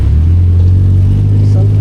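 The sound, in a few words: cars driving on a road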